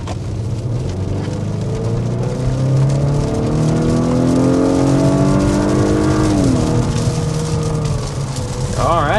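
Turbocharged 2-liter four-cylinder of a 2025 Acura RDX under hard acceleration, engine note rising steadily through the revs with a gear change near the end, loud and continuous from inside the cabin.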